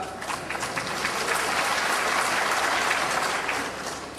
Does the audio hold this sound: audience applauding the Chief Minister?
yes